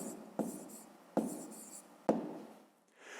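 Pen strokes on paper as a math answer is written out, three distinct scratchy bursts each starting sharply and trailing off, close and quiet with no talking.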